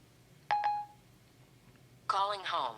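An iPhone 4s gives two short electronic tones while Siri places a call. A quiet pause follows, and then a voice speaks.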